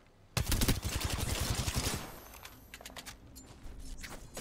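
Rapid automatic gunfire from the video game Apex Legends rattles in a dense, loud burst for about a second and a half, then drops to quieter scattered shots and clicks.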